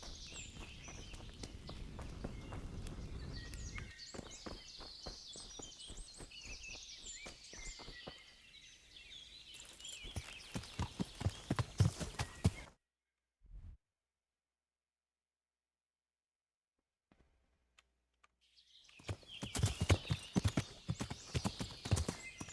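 Hooves of a horse clip-clop in a video game, sharp repeated strikes that come and go over outdoor ambience with birds, dropping to near silence midway before the trotting resumes, no talk over it.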